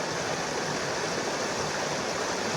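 Steady flowing stream water, a continuous broadband rush with no breaks, close and even throughout with no voices.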